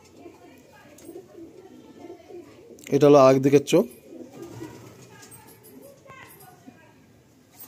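Low, rolling coos from a Kashma pigeon at a pigeon loft run steadily through the background, briefly covered by someone speaking close by.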